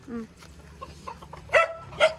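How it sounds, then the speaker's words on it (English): A chicken gives a few short clucks and squawks nearby, the last two louder and sharper, with faint background noise between them. "There's the chicken."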